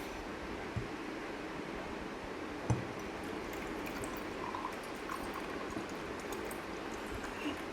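Water pours steadily in a continuous splashing wash, with one brief knock partway through and no talking.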